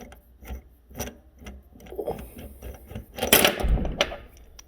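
A drill unscrews a screw at a workbench, with short whirring bursts and clicks that build to a louder buzz near the end.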